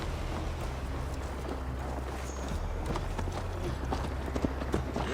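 Steady clip-clopping of horse hooves in the video game Assassin's Creed Valhalla, a brisk close rhythm over a low rumble of wind and movement, with no voices.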